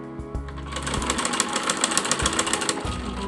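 An electric sewing machine runs steadily, its needle chattering fast and loud as it stitches a ruffled bed sheet, with a few faint knocks from fabric handling underneath.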